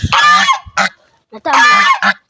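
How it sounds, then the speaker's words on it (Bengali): A raja hans goose in a Bangladeshi village honks loudly and close by in two harsh bursts, each followed by a shorter squawk, with quiet gaps between. "এই যে দেখেন রাজা হাঁস"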